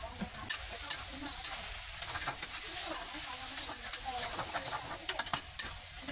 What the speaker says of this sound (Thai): แล้วก็ใส่ปูของเราลงไปเลยครับผัดทุกอย่างให้เข้ากันประมาณ 1 น าทีครับ